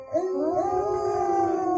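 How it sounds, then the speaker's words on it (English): Wolf howls drift through a wooded night in a tabletop game, a single long rising and sustained howl, loud and clear, with no talk over it. "The rest of you begin to hear wolf howls throughout the woods now,"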